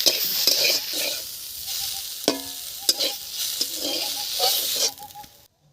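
Cooked greens, dried down in their own water, are stirred and mixed in a pan with soft scraping and light sizzling, with a few sharp clicks of utensil on metal throughout.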